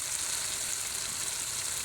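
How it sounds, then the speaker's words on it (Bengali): Two eggs fry in a pan over a gas flame, cracked into a thickening mixture and left to cook, with a steady, close, even sizzle and crackle throughout and no talking. "দেখতেই পাচ্ছেন ডিমগুলো নিচ দিয়ে কত সুন্দরভাবে সিদ্ধ হয়ে আসছে"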